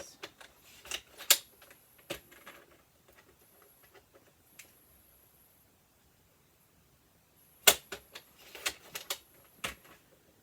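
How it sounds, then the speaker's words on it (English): Paper being trimmed at all four corners for a handmade card, heard as scattered sharp snips and crisp paper rustles in short bursts, close up, with a quiet pause in the middle and no talking. "Trim this up now on all 4 corners."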